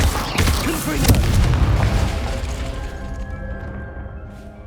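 A Confringo fire-spell explosion goes off in Hogwarts Legacy, a loud broadband burst with a rumbling low boom that slowly fades into a dull ringing tail, with a voice briefly heard in the mix.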